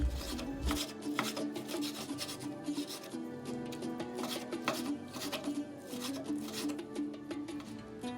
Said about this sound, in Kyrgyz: Чарчы кылып майда туурайбыз.